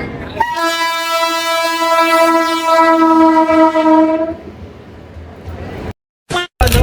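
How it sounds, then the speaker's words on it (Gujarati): A train pulling into a station on the way to Botad sounds a long, loud horn blast for about four seconds, then rumbles and clatters on the tracks, with a brief gap near the end. "ફાઇનલી મિત્રો જો બોટાદની ટ્રેન આવી ગઈ છે"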